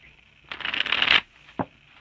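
Small tarot cards being shuffled by hand, a dense papery riffling burst lasting under a second, followed by a single soft card snap, close and alone with no talk.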